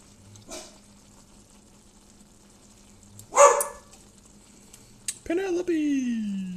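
A dog barking at a delivery truck, giving a couple of sharp barks spaced apart followed by a longer whining, yelping call, fairly close, over a faint steady hum.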